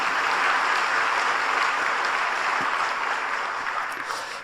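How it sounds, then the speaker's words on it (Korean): A congregation at a Friday all-night church service gives warm applause to welcome a visiting pastor from a church in Delhi, India: thick, even clapping from many people, sustained and then gradually fading toward the end. "자리에서 일어나실 때 따뜻한 박수로 환영해 주시기 바랍니다"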